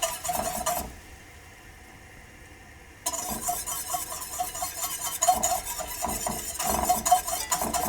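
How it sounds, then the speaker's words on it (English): Butter browning in a large pot while being whisked steadily, with soft sizzling and a rhythmic scrape and clink of the whisk against the metal, briefly quieter in the middle before the stirring resumes, close and with no talk. "And you just want to keep whisking."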